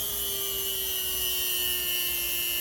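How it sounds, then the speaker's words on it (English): Dremel rotary tool fitted with rough abrasive pads working on metal during a 2001 XR70 build, a steady, high whining buzz close up, unbroken throughout. "So I'm using a Dremel"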